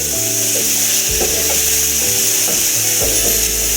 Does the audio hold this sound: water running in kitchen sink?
no